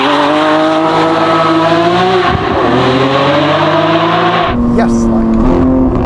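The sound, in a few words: Lamborghini Aventador Ultimae Roadster engine accelerating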